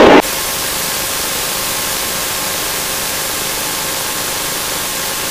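A light aircraft engine holds a steady run-up at 1,700 rpm, a loud, even broadband roar that continues unbroken after a brief opening burst, with no voices over it.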